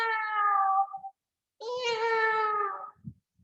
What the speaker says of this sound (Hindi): बिल्ली भी है